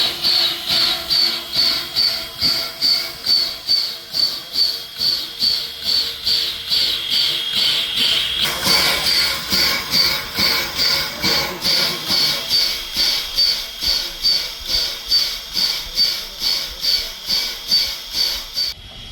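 Steady hiss of steam venting from a steam locomotive at Strasburg Rail Road before departure, pulsing in a regular rhythm, with a brief louder burst midway; no talking.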